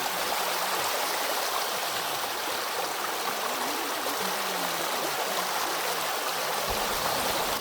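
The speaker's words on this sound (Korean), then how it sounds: "청량한 물소리는 10km는 더 걸어가도 거뜬할 것 같습니다" Water rushes steadily along a ditch-like stream beside a walking trail, a close, continuous bright babble with no voices.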